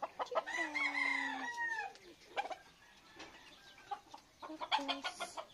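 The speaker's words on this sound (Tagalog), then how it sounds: "Chicken, chicken." Caged chickens cluck and call nearby, with a rooster's crow near the start followed by scattered clucks and short squawks, fairly soft overall.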